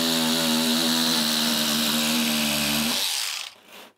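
Electric scissors cutting through medium-weight carpet give a steady, loud, close motorised buzz that runs for about three seconds, then cuts out with a brief fading whir.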